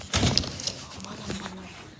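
A door is pushed shut indoors, landing as a single close thud near the start, followed by a few faint knocks and rustles.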